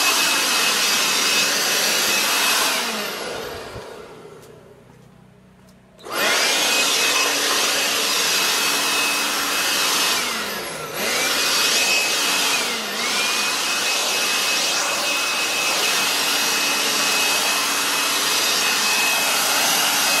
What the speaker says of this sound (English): It doesn't take that much time using the Makita cordless 18 volt battery operated.